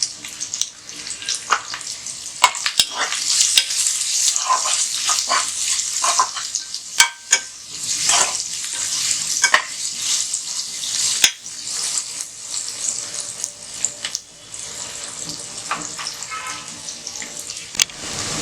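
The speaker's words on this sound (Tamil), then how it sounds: "வெங்காயம் நல்லா வதங்கிடுச்சு." Onions frying in a pan for a chicken curry, a steady bright sizzle with intermittent scrapes and clicks of a spoon stirring, close and continuous.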